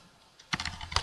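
A burst of quick keystrokes on a computer keyboard, close and clear, starting after a short quiet gap and running to the end of the clip.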